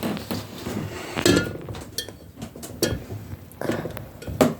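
Metal spoon and dishes knocking and clinking in a home, a few scattered sharp clatters and taps, close by with quiet background.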